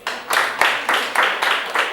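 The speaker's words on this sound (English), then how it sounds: "Clap for yourselves" Students clap for themselves at a youth talk on COVID-19's impact, giving a brief burst of close, lively hand claps that surge in several quick waves.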